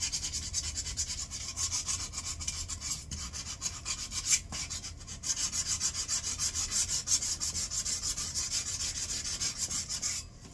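Crumpled aluminum foil soaked in vinegar scrubs rust from pitted stainless steel, a steady close rasping rub that continues with a brief pause midway, no talking.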